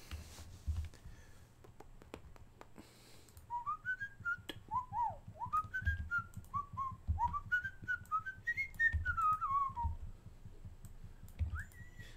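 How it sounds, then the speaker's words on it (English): Someone whistles a wandering melodic tune of short rising and falling phrases, fairly close, over a steady low background hum during a live drawing session. "I wonder if I can get a copyright strike for whistling."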